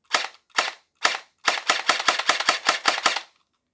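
A Surge gel blaster pistol fires single shots in a run of ten snappy, close clicks: three spaced half a second apart, then seven quicker ones in a tight, even rhythm, with no voices.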